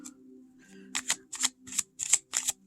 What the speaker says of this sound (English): And let's see how it shuffles.